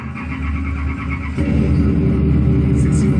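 Deep, loud rumble of Ken Block's custom-built 1965 Ford Mustang, a steady idle that swells into a heavier, louder roar partway through, close by and with no voices over it.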